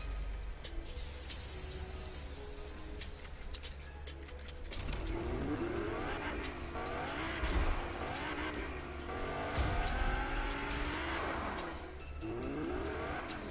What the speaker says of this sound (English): I get in the fast car over here then